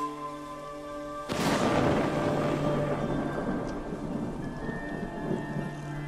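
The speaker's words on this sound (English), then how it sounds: "Not again with those lightning strikes. Freaking storms everywhere." Thunder crashes suddenly over steady rain in a stormy scene from the video game Ghost of Tsushima, the loud crack rolling off into a long rumble while rainfall continues underneath; game music tones linger in the background.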